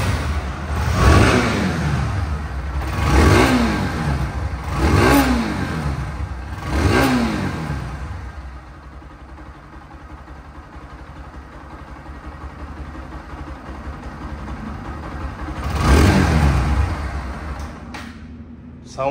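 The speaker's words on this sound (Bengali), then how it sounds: "পালসার এনএসের মতন আরাম এবং মিষ্টি সাউন্ড কোনো বাইকে হতে পারে না" A second-hand Bajaj Pulsar NS 160 motorcycle engine is revved close by in four sharp, evenly spaced bursts, then settles to a low idle before one final rev near the end.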